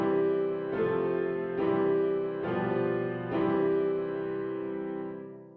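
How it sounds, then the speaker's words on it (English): A short musical example in a major key, played as four sustained, chord-like tones that each sound for under a second and ring together, with no voices. "Yes, that was a major sound."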